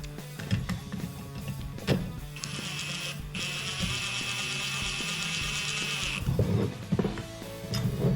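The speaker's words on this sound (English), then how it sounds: "we'll get our Allen wrench in there." Ratchet-type wrench tightening a nut on a Jeep Gladiator JT Rugged Ridge Arcus front bumper, heard as a run of rapid mechanical clicking over a few seconds between scattered handling knocks and clanks.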